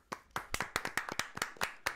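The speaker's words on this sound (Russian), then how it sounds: "Аплодисменты." Hands clap one at a time in a loose, uneven rhythm at a fighters' press conference, about ten sharp, close smacks over two seconds with a quiet gap before the first.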